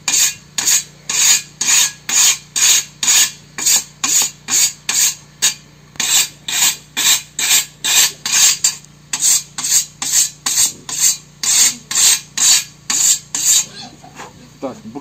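A whetstone is drawn along a scythe blade in rapid, regular rasping strokes, dozens of crisp scrapes in steady rhythm with a short pause midway, close and loud over a low hum.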